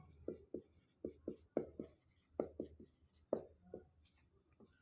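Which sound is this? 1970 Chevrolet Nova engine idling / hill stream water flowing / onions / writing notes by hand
writing notes by hand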